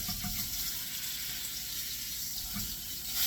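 Dry aged strip steak standing on its end searing in a pan, with a steady hissing sizzle close by and a couple of faint low knocks.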